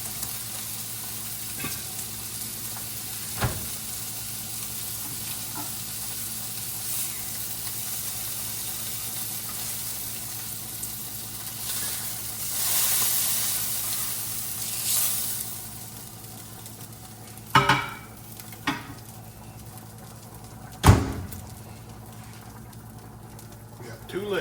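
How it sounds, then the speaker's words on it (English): Pork chops frying in a hot pan in a home kitchen, a steady sizzle running throughout under occasional talk, with a few sharp clinks and scrapes of utensils against the pan. "we gotta get these pork chops off and get the next batch on."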